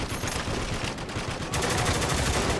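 Dense, continuous gunfire from Spec Ops: The Line, rapid automatic bursts layered into a loud, steady barrage that swells heavier partway through, close and overwhelming.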